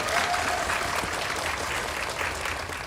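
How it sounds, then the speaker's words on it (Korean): Audience applause at a Korean film talk event for the movie Remember, a dense, steady wash of clapping from a seated crowd that stays loud throughout with no talking over it. "네, 박수 부탁드립니다."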